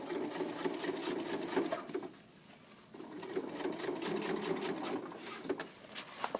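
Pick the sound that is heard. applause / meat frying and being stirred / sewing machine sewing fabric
sewing machine sewing fabric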